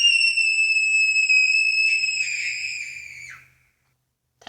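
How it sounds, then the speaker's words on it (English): A long, piercing high scream sustained for over three seconds, loud and close, wavering slightly before trailing off into silence, followed by a brief faint noise at the end. "That's what my scream sounds like."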